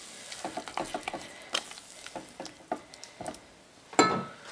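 Malabar kinnathappam batter is stirred continuously in a pan, a series of quiet, irregular scraping strokes and knocks from the spoon with one louder scrape near the end.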